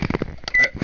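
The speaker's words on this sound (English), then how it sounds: "I realize that beeping on the stove is really loud." A kitchen stove timer gives a short burst of loud electronic beeps, close and sharp, lasting under a second.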